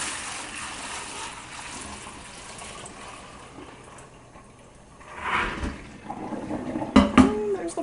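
Water drains from a kitchen sink in a soft, low gurgling swirl, growing louder toward the end with a few clinks and splashes close by.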